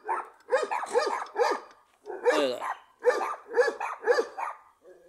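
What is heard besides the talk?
dogs barking next to a parked van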